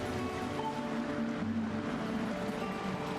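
A waterfall in Waterfall Cave from The Legend of Zelda: Skyward Sword rushes steadily in a constant wash of water, with soft tonal game music running underneath.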